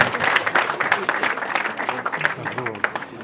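Applause from a wedding audience fills the space in a dense, continuous patter of clapping, with voices talking over it throughout.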